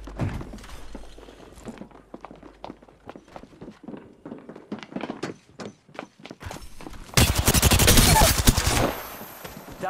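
Rapid bursts of automatic gunfire in the PS5 video game Octane, scattered sharp shots through the first stretch, then a dense, loud sustained volley near the end.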